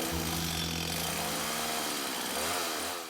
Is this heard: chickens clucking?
no